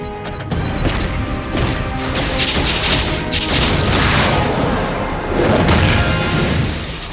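Artillery strike explosions in the DC Universe game, a loud continuous wall of crashing, rumbling blasts and debris layered over one another for several seconds.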